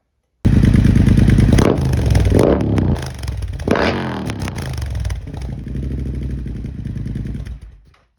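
Supercharged Triumph Bobber motorcycle accelerating hard, loud close engine roar rising through gear changes with brief dips between shifts, then fading out at the end.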